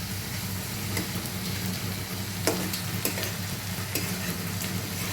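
Spice masala frying in a pan with a little water added hisses in a constant close sizzle, broken by several sharp scrapes and taps of a spoon being stirred through it.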